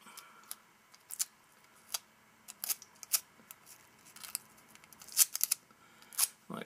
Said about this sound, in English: take a small piece of tape and fold it back on itself a little bit